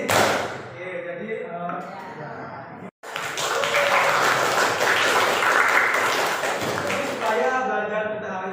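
A class plays a tepuk group clapping game, with bursts of hand claps woven through chanting voices, a brief break partway, then louder, fuller clapping and chanting before the sound thins out.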